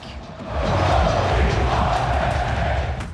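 A huge stadium crowd roars at a Penn State football game in a whiteout, the noise swelling after the first half-second into a loud, steady, continuous wash of voices.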